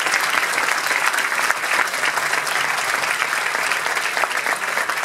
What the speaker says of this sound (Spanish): Vamos a pedir un aplauso para la gente que está ahí con, con las luces y con el sonido